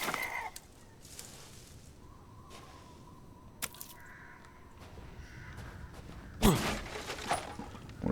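A chicken in the video game Resident Evil Village gives scattered, faint clucks against a quiet background, followed by a sharp clattering crash and a few louder bursts.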